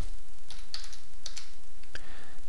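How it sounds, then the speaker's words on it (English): Keys are pressed on a computer keyboard while Mastercam for SolidWorks software is set up, a few light, close clicks spaced irregularly over a steady background hiss. "When I press Enter on the keyboard,"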